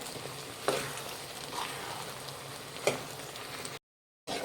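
Moong dal and rice are stirred in a pan on medium flame for sweet pongal, giving a soft sizzle with a few scraping stir strokes up close before a brief silence.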